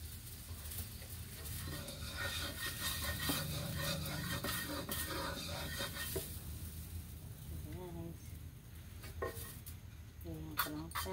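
Rice stir-fried with only salt in a pan gives a soft, steady sizzle with scraping and clinking utensil strokes, while someone talks faintly at times.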